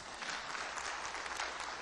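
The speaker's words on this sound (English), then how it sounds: "give yourselves a round of applause for putting up with me" Audience applause at a TechEd 2004 technical session on file server performance, a steady dense clapping throughout, moderately distant and even, with no voices over it.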